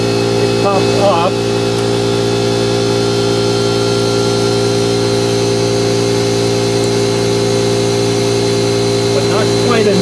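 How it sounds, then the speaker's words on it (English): An air compressor runs steadily in a workshop during a doorbell server repair, a constant loud mechanical hum with steady tonal whine that holds unchanged throughout, with a couple of brief clinks near the start and end. "Don't worry about the compressor"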